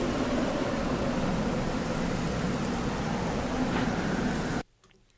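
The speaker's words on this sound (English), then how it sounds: "The first one is this desert wind sound." Unprocessed desert wind rushes steadily as a broad, dense hiss with a low rumble, holding an even level before cutting off abruptly near the end into near silence.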